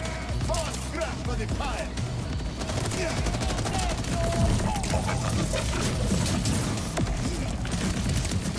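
Steady stream of video game gunfire in Borderlands, dense rapid shots continuing throughout under a busy mix of game sounds and voices.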